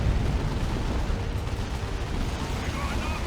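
In a Dawn of War 2 Retribution battle, a proximity mine and an artillery barrage explode in a dense, continuous rumble of booms and crackles that fills the whole stretch at a steady, heavy loudness.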